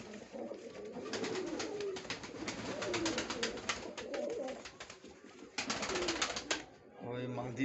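Pigeons scuffle inside a coop, a white and a black bird among them, with flapping wing bursts and scrabbling, some low cooing, steady close activity broken by a brief pause near the end.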